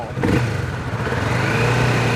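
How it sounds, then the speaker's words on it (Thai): A 2019 Kawasaki Vulcan 650S motorcycle idles with a throaty, pulsing exhaust burble, steady and close, with a slight rise in revs near the start. "มาฟังเสียงท่อคันนี้กัน"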